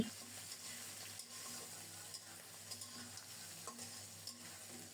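Mutton curry sautéing in a pan, a soft continuous sizzle with light scraping and stirring clicks from a spoon, quiet and close, with no voices.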